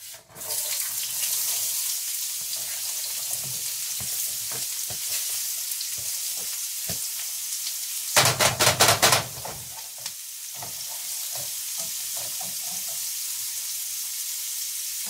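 Garlic and onions sautéing in a hot pan for green chili: a loud, steady sizzle throughout, with a brief burst of scraping or stirring in the middle before the frying settles again.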